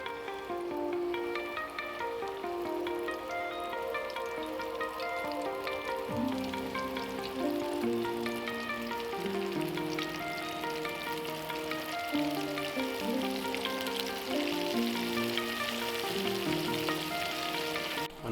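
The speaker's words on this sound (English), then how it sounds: "I know you can hear that wonderful sizzle going on right there" Flour-coated catfish frying in hot oil, a dense, continuous sizzle and crackle heard close up, steady throughout with no talking.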